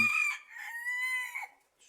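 A feather-footed bantam rooster kept with five hens crows once, close and clear, a short strained call ending in a brief quieter trail.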